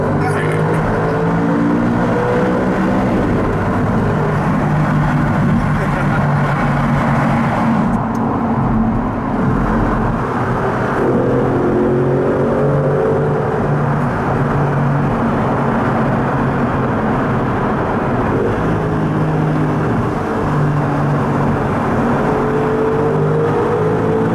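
Engine of an Audi R8 or Nissan GT-R sports car droning loud and steady in a road tunnel, with layered harmonic tones that rise and shift as it revs, while people speak over it throughout.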